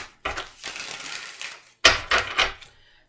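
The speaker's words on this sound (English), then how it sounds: "So, all right, 2 shuffles." Short bursts of riffle shuffling of a tarot or oracle card deck at close range: two separate rustling, clicking runs divided by a brief gap.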